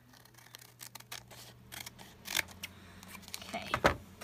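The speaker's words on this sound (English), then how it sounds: "we're going to fix those here just as soon as we go in and trim our excess plastic off" Scissors trimming excess plastic off a craft belly band, a handful of quick close snips and clicks, the loudest near the end, with faint handling noise between cuts.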